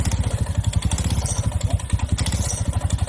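A motorcycle engine with an automatic clutch idles under a gentle throttle, giving a rapid, even clattering pulse that stays close and steady throughout.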